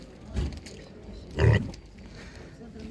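A couple of short, low pig grunts, one louder snort-like grunt near the middle, with faint background noise and murmuring around them at an animal market in Ivano-Frankivsk.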